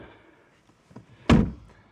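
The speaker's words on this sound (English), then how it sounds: "so I'm going to shut the door." A single solid door thunk from a 2010 Aston Martin DBS Volante Carbon Edition, close and loud, after a few faint clicks and rustles.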